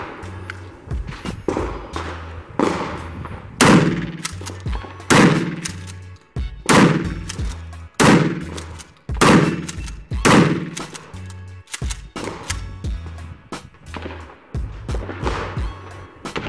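Loud, close blasts from a Mossberg 590 Shockwave shotgun fired at reactive targets outdoors, a dozen or so sharp booms spaced roughly a second apart, each with a short ringing tail.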